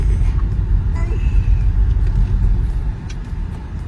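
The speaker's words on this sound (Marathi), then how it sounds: "गाडी फिरवायला लागेल." A car engine rumbles low and close as the vehicle is turned around on a road in the Konkan, a steady idling drone that dips slightly near the end.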